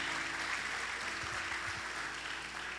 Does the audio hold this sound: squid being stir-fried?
no